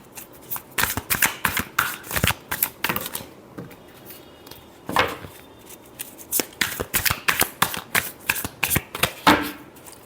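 Tarot cards are shuffled close up in rapid riffling bursts, a run of crisp flicks and slaps, a brief pause, then another quick flurry, with no talking.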